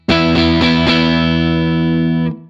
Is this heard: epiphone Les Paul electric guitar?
yes